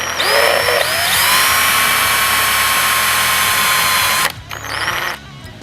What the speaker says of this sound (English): Just going to real easily drill a pilot hole.